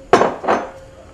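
Chopped onions dropped into a frying pan during a Korean lunchbox cooking class give two quick, close clattering impacts of food and metal cookware, with no talk.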